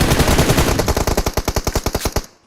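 PUBG Mobile automatic gunfire in a rapid, evenly spaced burst of about fifteen loud, close shots that ends abruptly, with no talk over it.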